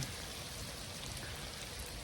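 Heavy rain pours down steadily during a mountain storm in the Canadian Rockies, a dense even hiss of drops striking surfaces that stays constant throughout, with no voices.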